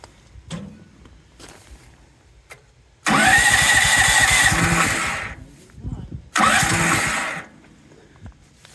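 Small gasoline engine on a Woodland Mills 130MAX portable sawmill cranked to life, roaring loudly for about two seconds, dying, then firing again briefly, with quiet voices and handling noises between attempts.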